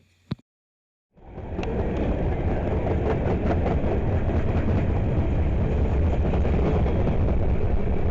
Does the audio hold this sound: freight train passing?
yes